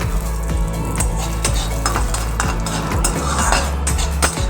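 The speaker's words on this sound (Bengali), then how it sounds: "তেলটা গরম হয়ে গেছে এর মধ্যে দিয়ে দেবো আমি প্রথমে বাদাম" Peanuts being fried in hot refined oil for a veg chop recipe, giving a steady sizzle with repeated metallic clinks and scrapes of a utensil stirring in the pan, close and busy throughout.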